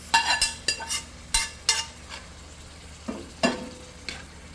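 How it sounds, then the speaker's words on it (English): Potatoes go into a hot cast iron pot for picadillo, giving a series of sharp sizzling bursts with clinks and scrapes of utensils against the pot, close and fairly loud, fading between additions. "Now we add the potatoes."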